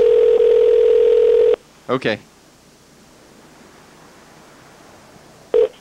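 A steady telephone dial tone hums alone at the start, then cuts off, followed by a few short touch-tone dialing beeps and another brief tone at the end; a voice speaks a single word.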